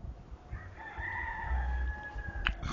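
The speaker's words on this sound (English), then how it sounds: "You hear the rooster crowing?" A rooster crows on a chicken farm in the Bronx, a single drawn-out call rising and falling over about two seconds, fairly distant and faint over low background rumble.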